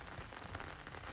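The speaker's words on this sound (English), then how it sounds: "It's been raining on and off most of the round, but now we're kind of out in the open, and it decided that it's time to start coming down." Rain falls steadily outdoors on an open disc golf course in Mount Vernon, Texas, a dense, even hiss of drops spattering nearby surfaces with no gaps, loud and continuous throughout.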